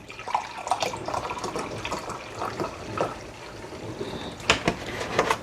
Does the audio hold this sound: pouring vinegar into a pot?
yes